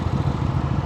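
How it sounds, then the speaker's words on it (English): A Suzuki cruiser motorcycle's engine rumbles steadily close by as it pulls up alongside another rider, a low continuous throb with no talking. "Oh, there's someone on a Harley pulling up next to me."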